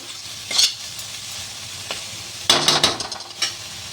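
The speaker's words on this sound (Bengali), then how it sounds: "দিয়ে আমি ভালো করে কষিয়ে তেল ছাড়া পর্যন্ত অপেক্ষা করব।" Spices frying and being stirred in hot oil with salt for a Bengali egg curry, giving a soft steady sizzle with a few louder scraping stirs near the middle and end, close and alone.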